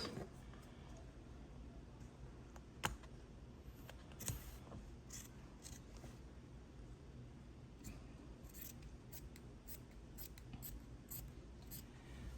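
Scissors snipping through quilting fabric, with a few soft, distinct cuts and clicks at irregular intervals over a quiet room background.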